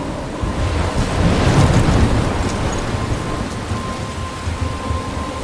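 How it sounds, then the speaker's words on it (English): A thunderstorm rages in Life Is Strange, heavy rain roaring continuously with a deep rumble of thunder swelling and fading, loud and close with no voices. "I'm trapped in a storm?"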